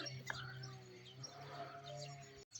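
Starling chirps near a farmyard after rain, short bright calls heard over steady background hum, with a person talking quietly nearby.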